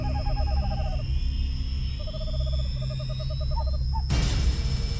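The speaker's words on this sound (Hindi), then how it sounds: "सिर्फ दूर कहीं उल्लू की आवाज सुनाई दे रही थी।" An owl hoots in repeated rapid, quavering series, somewhat distant, over a low steady hum, before a sudden burst of noise cuts in.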